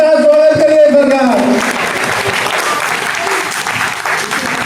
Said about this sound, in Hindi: Please welcome doctor CP Verma साहब, तालियों के साथ स्वागत करिए सर का।